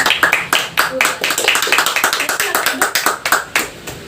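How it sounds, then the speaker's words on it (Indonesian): A classroom of eighth-grade students claps for a student group after a presentation, a dense run of sharp hand claps continuing steadily at close range with no talking. "Beri tepuk tangannya untuk kelompok"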